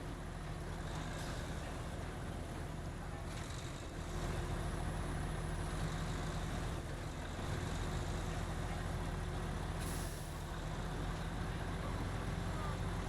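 A low, steady engine rumble from a heavy Mack truck in the video game SnowRunner drones continuously, with faint rattles and hiss over it.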